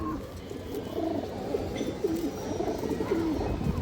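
A high-quality female pigeon coos in a series of soft, repeated rolling calls close by, over a low background murmur.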